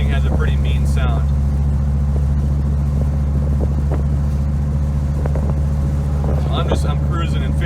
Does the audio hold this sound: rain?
no